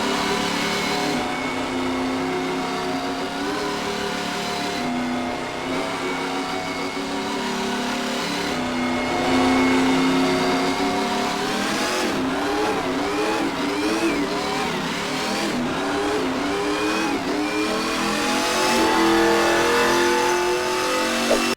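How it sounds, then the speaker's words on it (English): A Ram TRX truck does a burnout in a Roblox video game, a loud sustained engine roar that climbs and wavers in pitch as it revs, with surges and harmonic sweeps continuing for the whole stretch without talk. "the only way to show off how it sounds is with a burnout"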